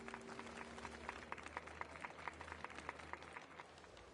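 Faint applause from a crowd during a festival ceremony in a video game set in Penacony: dense, steady clapping that stays quiet and distant throughout, with no voices over it.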